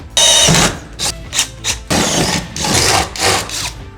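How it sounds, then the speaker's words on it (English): A power drill with a 3/8 inch bit bores a hole for a plus nut while a workbench is fitted inside a RAM ProMaster van, whirring close and loud in several short bursts with brief pauses between them. "Now I'm using a 3/8 inch drill bit on this"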